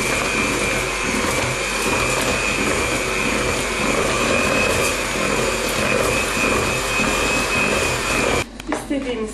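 An electric mixer whirs steadily and loudly through cake batter, a constant buzzing motor drone that holds for most of the stretch before stopping near the end with a few light clatters.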